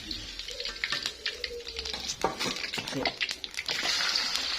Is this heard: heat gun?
no